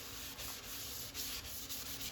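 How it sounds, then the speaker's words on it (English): A cloth soaked in isopropyl alcohol wipes over a resin and wood turned piece, producing a soft, steady rubbing hiss in short repeated strokes, close and quiet with no voices. "cleaning off with a bit of isopropyl"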